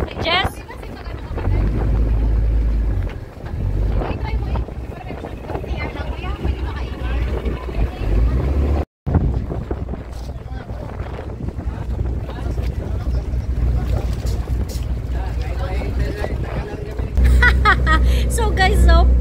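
Motorboat ride off El Nido, Palawan, with a steady engine drone and rushing wind buffeting the microphone, running continuously with a brief dropout midway.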